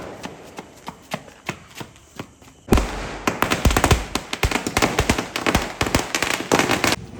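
A long Deepavali firecracker string, a 10,000-piece garland, bursts outdoors: scattered single pops give way to a loud, dense, continuous crackle of rapid explosions that keeps going to the end.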